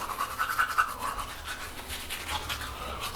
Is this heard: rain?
no